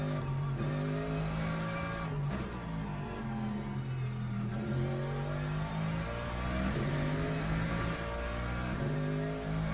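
Race car engine in the Le Mans Ultimate sim racing game, a steady droning note that climbs and drops through repeated upshifts and downshifts, loud and continuous throughout.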